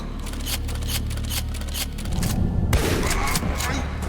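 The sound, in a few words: pistol shots in the video game Ashes 2063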